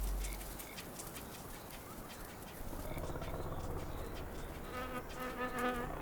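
A wasp buzzes steadily on ground swarming with ants, a continuous close drone over dense outdoor background noise.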